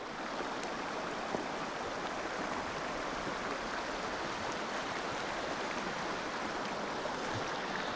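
A mountain river runs over rocks beneath Red Castle in the Uinta Mountains, a steady even rush of water heard close by and unbroken for the whole stretch.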